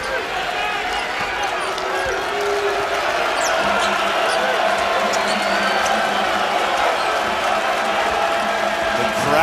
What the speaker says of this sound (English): Crowd here at Castle Coliseum roaring on the Hokies defense.